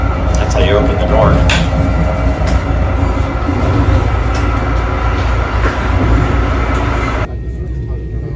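A Brightline passenger train rumbles loudly and continuously on the rails, with faint squealing near the start and a steady, close roar that drops away abruptly near the end.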